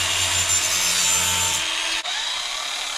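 A flap disc on a grinder sands a Camaro car part with a continuous harsh, hissing grind, close and fairly loud, the motor hum dropping away partway through while the abrasive rasp carries on.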